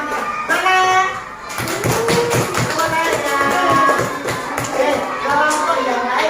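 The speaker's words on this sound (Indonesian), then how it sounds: "Beri tepuk tangan yang meriah untuk kelompok Nusantara." Primary schoolchildren in a fourth-grade classroom clap for the winning group, a dense, busy patter of many small hands beginning early and running steadily throughout, mixed with chatter and shuffling.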